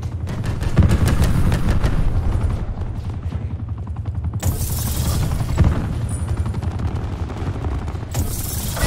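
A nine-bang stun grenade in Call of Duty Black Ops 4 going off amid a loud, chaotic firefight, with rapid repeated bangs and gunfire over a continuous rumble, close and intense.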